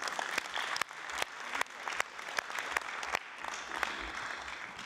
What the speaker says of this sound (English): Je vous demande de nous applaudir nous-mêmes.